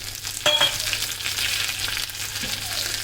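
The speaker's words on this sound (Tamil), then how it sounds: "எல்லாத்தையும் சேர்த்துட்டு நல்லா தாளிச்சிக்கலாம்." Mustard seeds, urad dal, small onion, dried red chili and curry leaves temper in hot oil, making a dense, steady crackling sizzle close by with a few sharper pops and a brief utensil clink early on.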